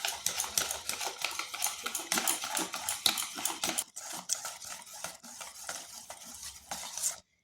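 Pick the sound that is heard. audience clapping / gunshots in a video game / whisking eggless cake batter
whisking eggless cake batter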